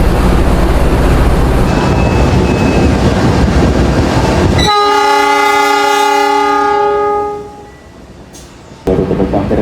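Train at a station as the Taksaka passes, with steady loud rumble and clatter followed by a long sustained horn blast, then the noise drops before resuming briefly.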